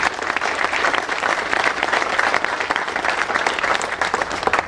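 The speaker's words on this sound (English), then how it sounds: "So give yourself some applause." An audience at a groundbreaking ceremony for the Nashville Entrepreneur Center applauds, dense sustained clapping from many hands filling the room throughout.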